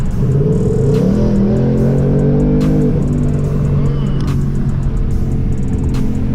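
A 2019 Ford Mustang GT V8 on E85 revs up hard at wide open throttle and drones loudly, its pitch climbing then holding steady under constant road rumble, close and loud throughout.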